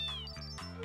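A cat meows in the Final Fantasy 8 video game, a single short, quiet, tonal cry with gliding pitch, heard alone.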